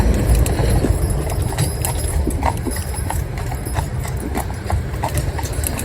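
Cob horses pulling a cart on a town road, their hooves clip-clopping in a steady, close rhythm over rumbling wheels and background traffic noise.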